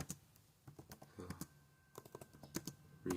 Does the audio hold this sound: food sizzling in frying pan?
no